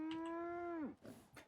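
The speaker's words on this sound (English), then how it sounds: "Ha ha, crazy moo-moos" A single long, loud moo from a brahmin, the two-headed cattle of Fallout 4, held steady and then dropping off, followed by softer game ambience and a few faint rustles.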